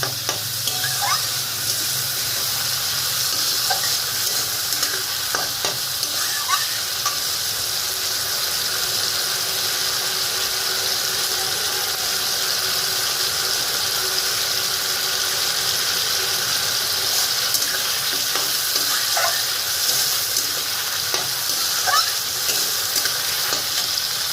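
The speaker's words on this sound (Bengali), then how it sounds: "এবার মশলাটা কষবে মশলাটা কষানো হচ্ছে" Spice paste for a vegetarian banana flower curry fries and gets stirred in a pan, giving a steady, close sizzle with intermittent scraping stirs throughout.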